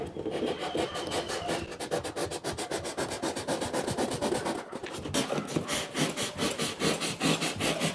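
A blade saws rapidly back and forth through a thermocol box to cut out a marked section, a close, steady rasping rub with quick repeated strokes and a brief pause midway.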